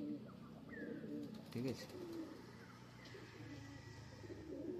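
Faint, soft pigeon coos repeat a few times in the background while someone speaks briefly nearby.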